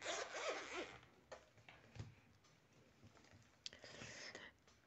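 A coin purse is unzipped close up, its zipper teeth rasping in a quick pull and then again in a second burst after a few small clicks, quiet and alone with no talk.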